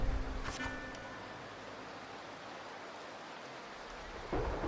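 Rain falls steadily in the video game Wuthering Waves, with a low rumble of thunder at the start and a fresh burst of rain or thunder near the end; fairly faint, with no voices.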